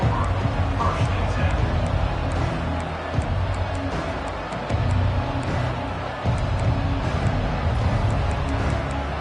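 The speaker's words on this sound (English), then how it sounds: "Listen to the crowd energy here in the early going." Large crowd at a Kentucky football game, a continuous dense roar of voices and babble with swells and dips, loud and enveloping, while commentary runs over it.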